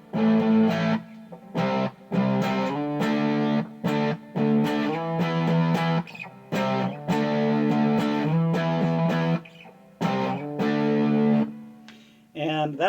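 Electric guitar through the lead channel of a 1982 Peavey Bandit amp, no pedals, playing loud distorted phrases separated by short pauses, with sustained singing notes.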